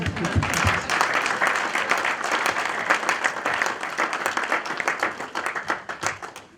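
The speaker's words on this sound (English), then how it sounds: "This is the point at which you clap hands for me." A lecture audience at a winter school session applauds the speaker with dense, sustained hand clapping that stays full for several seconds before thinning slightly toward the end.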